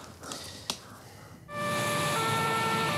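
An ambulance siren starts abruptly and holds a loud, steady wail with bright sustained tones, after a brief stretch of quiet background noise and a sharp knock.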